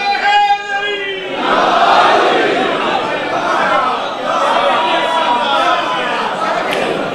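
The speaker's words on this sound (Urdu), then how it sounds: "سب اس نعرے میں شریک ہو جائیں، سب اس نعرے میں۔" A congregation at a Friday Shia sermon in Musa Duggal, Gujranwala takes up a religious slogan together. One voice leads, then many voices chant in unison, loud and rolling, filling the hall.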